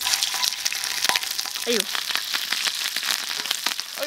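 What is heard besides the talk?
meat frying in hot oil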